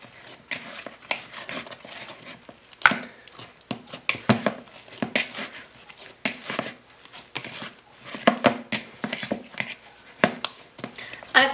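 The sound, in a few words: hands kneading naan dough with oil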